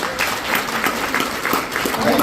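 Applause from an audience at a retirement celebration, with steady clapping from a crowd that stays at an even level throughout.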